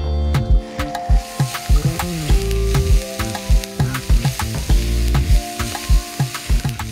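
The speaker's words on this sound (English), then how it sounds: "Get that sauteing in your pan until softened. Then I'll slowly crumble in some of the tofu." Onions, jalapeno and crumbled tofu sautéing in a pan, a loud close sizzle broken by frequent rhythmic stirring knocks and scrapes, with no voices over it.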